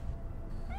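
A pet cat in the Cyberpunk 2077 video game gives a soft, faint meow over a low steady game background hum, with no talking.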